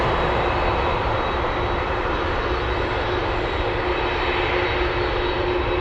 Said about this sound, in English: Taking off right now, we have Alaska Airlines 1567 flying to PDX, Portland.